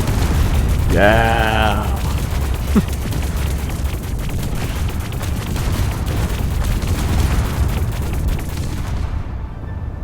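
A debug gun tool fires in the Space Engineers 2 video game, giving a loud, dense burst of shots and destruction booms that carries on throughout, with a brief excited shout near the start.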